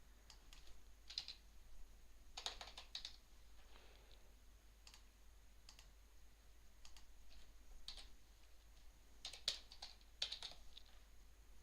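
Quiet keystrokes on a computer keyboard, tapped in short scattered bursts with pauses between, faint against a low background hum.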